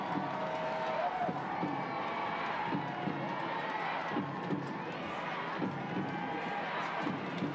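Stadium crowd at Audi Field in Washington during extra time of an NWSL soccer match, a steady broad roar of many voices with scattered shouts, under commentator talk.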